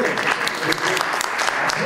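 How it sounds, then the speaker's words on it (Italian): Loud, close applause at a talk on a theatre production of L'illusion comique, sharp individual claps in a quick, dense patter, along with a little voice activity. "un applauso a Maurizio che ci ha salvato dalla situazione."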